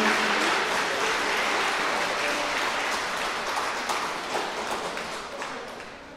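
An audience at a wedding ceremony in a convention hall applauds, a dense, steady wash of clapping that fades slightly toward the end.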